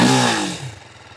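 A TVS Apache RTR 310 motorcycle's exhaust gives a short, loud rev that quickly falls away and settles into a pulsing idle burble.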